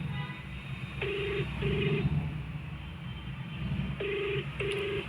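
Incoming phone call ringing at a GSM mobile motor controller, two short pairs of electronic ring tones a few seconds apart over a low background hum, fairly quiet and without voices.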